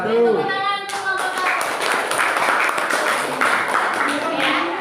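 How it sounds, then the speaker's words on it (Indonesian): A classroom of students claps for a group that has just presented a simple electric motor project, starting after a brief voice and becoming a brisk, close patter of many hands that carries on evenly. "Tepuk tangan untuk kelompok"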